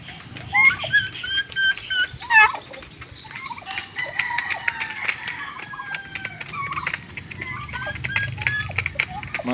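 Rhode Island Red and Buff Orpington chickens, roosters and hens, in a rural backyard flock. They give scattered clucks and short chirping calls at moderate distance, over a faint, steady outdoor background with occasional soft taps.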